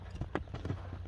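A ten-year-old horse's hooves clip-clop in a few soft, quick steps, faint and somewhat distant, with no talking over them.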